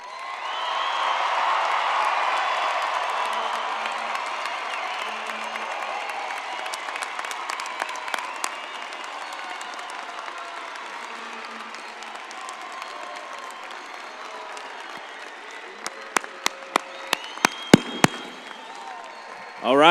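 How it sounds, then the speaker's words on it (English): A large crowd at a university fall commencement ceremony applauds enthusiastically, a broad roar of clapping with scattered cheers that gradually thins into sparse, isolated claps toward the end. "Please recognize them with your enthusiastic applause."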